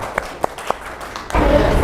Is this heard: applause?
yes